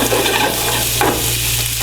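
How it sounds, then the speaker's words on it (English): Smoked bacon fries in butter in a pan for a potato rosti, a close, steady, loud sizzle and crackle with a low hum underneath and no talk. "we want to fry this bacon"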